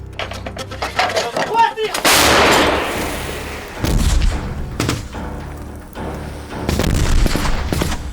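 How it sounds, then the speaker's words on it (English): Ukrainian artillery opening fire during a battle, heavy booming blasts with rolling echoes and several sharp reports, loud and spaced over several seconds, with scattered gunfire between the larger explosions. "Ukrainian artillery joins the battle and opens fire"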